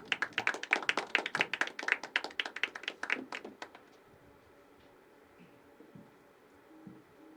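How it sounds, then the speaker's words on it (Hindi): A small audience at an evening poetry open mic at The Habitat claps for a poet. The claps are scattered and distinct, last about four seconds, and are followed by a quiet room. "एक बार जोरदार तालियां रिया के लिए।"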